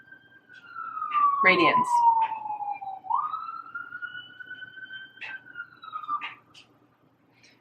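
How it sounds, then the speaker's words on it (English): A siren wails in the distance, its pitch sliding down and then rising again, with a person speaking briefly over it. "I feel like there's never not a siren that goes off in my video."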